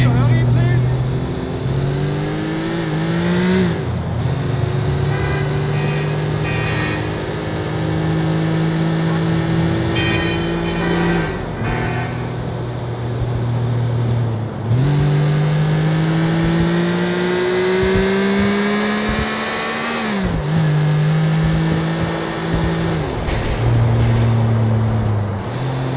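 A car engine in a driving video game revs loud and close, climbing steadily in pitch through each gear, then dropping sharply at shifts around every five seconds. The cycle repeats several times while people talk over it.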